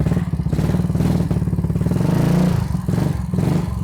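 A Yamaha Mio Sporty scooter fitted with a cheap aftermarket exhaust idles close by, giving a steady, deep, rounded bassy burble with a throbbing pulse and no voices.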